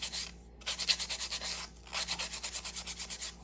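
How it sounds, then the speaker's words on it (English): The edge of a small resin disc keychain being sanded by hand in quick circular strokes, a close, rhythmic dry rasping with a brief pause partway through. "Sand it in circle motion"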